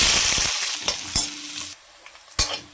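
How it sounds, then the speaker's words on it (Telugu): Chopped onions land in hot oil in a pan with a quick sizzle, followed by short stirring scrapes and crackling frying, close and fairly quiet, with no voices. "ఆయిల్ వేడెక్కింది ఉల్లిపాయలు వేసుకోవాలండి"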